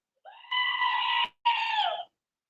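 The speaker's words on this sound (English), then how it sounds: "Let's do Screaming Goat. So warning, Screaming Goat." A screaming goat sound effect: two loud, drawn-out goat screams, the first about a second long and the second slightly shorter, separated by a brief pause, with no one talking over them.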